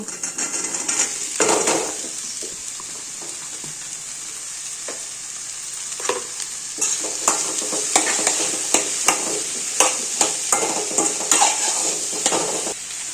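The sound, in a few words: mustard seeds sizzling and frying in a pan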